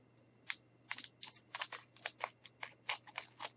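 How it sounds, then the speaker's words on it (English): Scissors snip off the ends of a folded piece of material, a quick run of about fifteen close, crisp clicking cuts in an uneven rhythm over a faint steady hum, with no talking. "I am going to cut the ends off"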